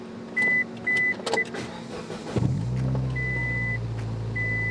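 A car hums steadily at low pitch, with repeated electronic chime beeps at the start and an engine-like rumble rising and settling into a constant drone; no one speaks.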